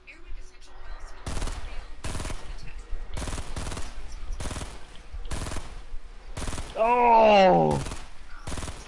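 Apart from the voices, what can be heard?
gunfire shooting at a skybridge, from a video game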